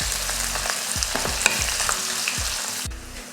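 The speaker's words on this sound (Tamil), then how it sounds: "ஒரு பெரிய வெங்காயம். இப்போ இதை வதக்கிடலாம்." Onion sizzles and fries in hot oil with cinnamon, cardamom, cloves and bay leaf for chicken biryani, with repeated scraping stirs of a spatula in the pan over a steady close crackle.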